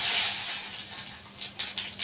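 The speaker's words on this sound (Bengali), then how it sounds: "এবার আমি এর মধ্যে শুকনো লঙ্কা, তেজপাতা এবং গোটা জিরে ফোড়ন দিয়ে দিলাম।" Dry red chillies, bay leaves and whole cumin seeds dropped into hot oil for tempering, giving a steady, close, bright sizzle with small crackling spurts, no voices over it.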